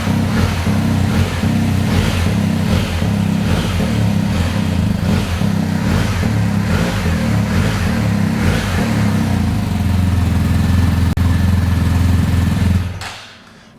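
A 2019 BMW R1250GS Adventure HP motorcycle engine with an Akrapovic muffler revs to around 3000–4000 rpm, a loud, close, sustained exhaust roar with pulsing rises before it drops away at the end.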